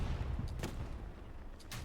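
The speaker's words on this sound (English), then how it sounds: "Gets blasted by what I believe to be his own artillery" Distant artillery blasts in a Hell Let Loose match on the Stalingrad map, two sharp dull booms about a second apart over low rumbling battle noise, no voices.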